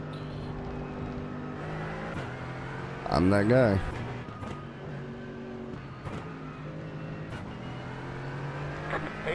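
Engines of GT4 race cars idling and droning at steady pitch on the pace lap at Road Atlanta in the iRacing sim, with a brief louder rev burst midway and someone talking over the engines throughout.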